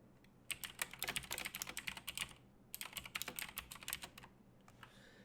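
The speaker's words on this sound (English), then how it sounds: "Move my keyboard so you guys don't hear that too much clicking" A computer keyboard clicks under quick typing in two bursts of rapid keystrokes with a short pause between, close and crisp.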